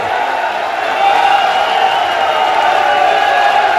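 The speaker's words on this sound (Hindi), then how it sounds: "ताली बजाओ अरविंद जी के लिए जोर से।" Large crowd at a political rally, clapping and cheering: a dense, continuous wash of applause and voices that grows slightly louder after the first second and stays steady and close.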